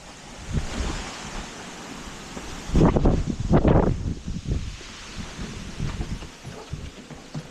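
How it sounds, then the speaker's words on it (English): Strong wind gusts buffet outdoors in a roaring, rushing wash, surging loudest midway, with no voices. "Hot and windy today."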